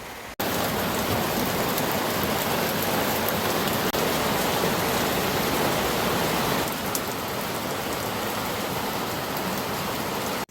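Steady, heavy rain pouring down at a mountain village in Sapan, Thailand, a dense, even hiss heard close by, unbroken from start to finish with no voices.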